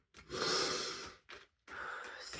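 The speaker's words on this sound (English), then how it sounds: "Excuse my sniffles." Congested sniffling from someone recovering from the flu, a few breathy nasal inhales with brief gaps between them, close and without talk.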